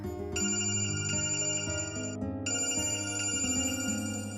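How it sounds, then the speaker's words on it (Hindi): A telephone rings steadily with a repeating electronic tone pattern that plays loudly and continuously throughout, with no voices over it. "अरे ये तो कल वाली आंटी का फोन है।"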